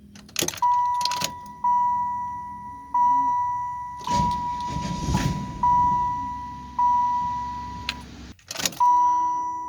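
A car with an LT1 engine, just fitted with a new alternator, sounds a repeating electronic warning chime with clicks, then a brief rough cranking burst in the middle before the chime resumes.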